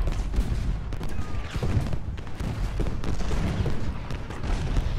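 Troops fire musket volleys in the Ultimate General Gettysburg strategy game, a dense, continuous crackle of overlapping shots and distant booms rolling on without a break.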